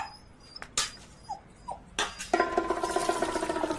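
A dog drinking tea: quiet scattered shuffles at first, then a fast, steady run of close, wet lapping sounds.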